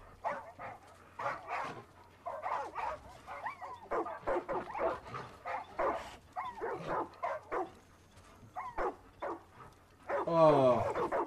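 In the video game Far Cry 5, a dog gives a burst of whimpering yelps and barks near the end, after a long stretch of quiet game sounds and scattered short noises, with a low steady hum underneath.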